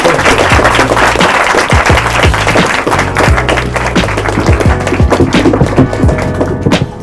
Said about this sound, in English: Can we give Becca a big round of applause?